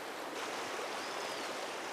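Swift River runs through forest as a steady, dense rush of stream water, continuous and moderately close with no voices.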